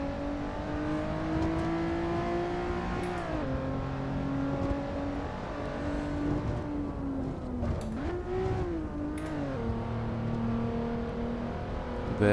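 A Honda NSX engine in the Assetto Corsa racing game revs steadily under load, its pitch climbing and then dropping sharply at gear shifts around the three- and eight-second marks. The drone is loud and continuous throughout, with no talk.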